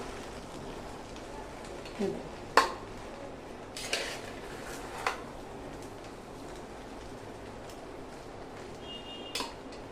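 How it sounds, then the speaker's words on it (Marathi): A spoon stirs vegetable pulao in a large, heavy pot, making a few sparse, sharp clinks against the metal over a steady low background hiss. "हा जो पुलाव आहे हा आपण मस्तपैकी हलवून घेऊया. मी थोडा हलवला आधी, एवढ्या मोठ्या पातेल्यात हलवायला थोडंसं जड जातं."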